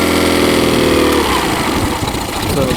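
Mercury outboard boat engine from a 2011 model idling loudly and steadily close by, its even running tone shifting slightly partway through as the idle is adjusted.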